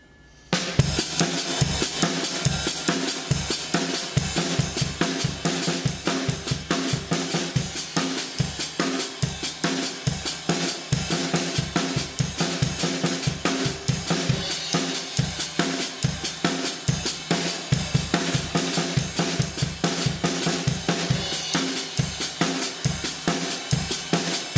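A drum kit plays a harder paradiddle independence exercise: dense, steady sticking across snare, cymbals and kick at a constant loud level, with no talking, for the whole stretch.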